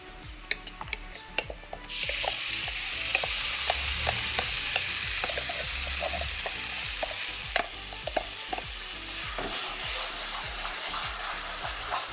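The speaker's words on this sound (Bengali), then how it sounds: "সেদ্ধ কাঁচা কলা বাটাটা এর মধ্যে ঢেলে দেবো" Boiled raw banana paste is tipped into a pan of fried onions, and a steady loud sizzle follows, with repeated scraping and clacking of a spoon stirring the mixture.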